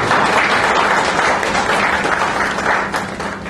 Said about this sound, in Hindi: तालियों के साथ आपका बहुत गर्मजोशी के साथ